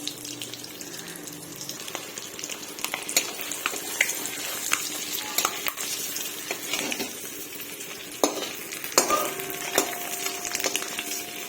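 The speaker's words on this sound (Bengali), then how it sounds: "ডিমগুলোকে আর বেশি ভাজবো না, ডিমগুলো এবারে নামিয়ে নেওয়া যাক।" Eggs fry in oil in a home kitchen pan, a soft continuous sizzle broken by clinks and scrapes of a utensil and occasional running-water sounds, with no talking.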